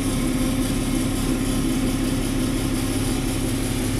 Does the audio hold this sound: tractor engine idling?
yes